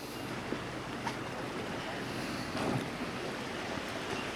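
Ocean surf on the south coast of New South Wales makes a steady, even wash that fills the space, with soft wind noise on the microphone and no voices.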